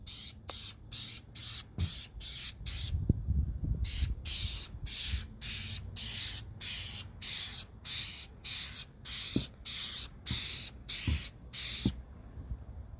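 Aerosol spray coat going onto a car headlight during a cheap restoration, heard as a long series of close, steady hissing bursts, each about half a second long, separated by brief pauses.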